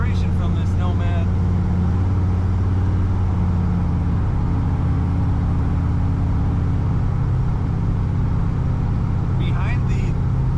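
A 1956 Chevrolet Bel Air Nomad's engine runs loud and close with a continuous low rumble, heard from inside the car as it accelerates, while someone speaks over it.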